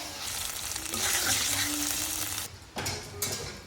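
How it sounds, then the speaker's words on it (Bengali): Paneer pieces fry in oil in a pan, making a loud, bright sizzle that swells and then eases, with a couple of sharp stirring knocks near the end. "পনিরগুলো ভাজা হয়ে গেল, এগুলো তুলে নেবে এবার।"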